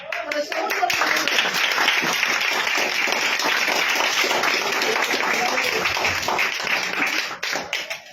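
A group claps in a sustained burst of applause, with voices mixed in, fading near the end.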